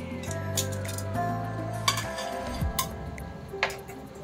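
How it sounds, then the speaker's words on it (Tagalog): A metal sizzling plate being handled in a home kitchen while preparing sizzling maya-maya fish, with several sharp clinks and knocks of metal against metal and other cookware over a steady background hum. "meron tayo ditong sizzling plate"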